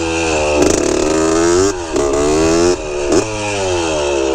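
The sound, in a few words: 1981 Honda CR80 dirt bike engine revving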